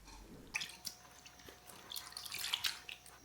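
Merino and silk fiber dyed with Usnea, Bryoria and tree moss lichen is washed in water, giving faint close drips, splashes and wet squishes that come in irregular bursts.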